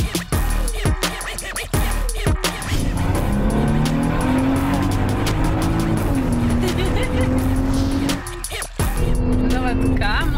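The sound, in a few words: Maserati Levante car driving with tire squeal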